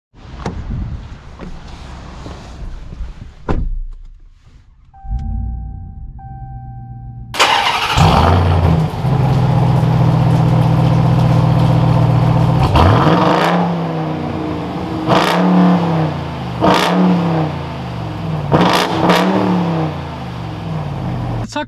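A 2021 Ram TRX pickup fires up with a loud burst at startup, then revs hard in a sustained growl before settling into a rumbling idle punctuated by several sharp throttle blips, close to the truck.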